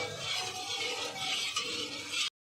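Milk stirred without pause in a pan while coconut sweet is cooked at home, giving a steady soft scraping and swishing that runs evenly, then cuts off abruptly.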